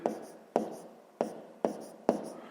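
Pen strokes scratching on paper while a math exercise is written out, five distinct bursts of writing spaced about half a second apart, close and clear with no talking.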